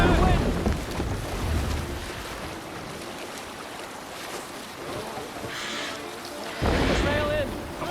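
Viking longship under sail at sea in Assassin's Creed Valhalla, with steady wind and rushing water washing beneath a crew's shouted commands and voices throughout.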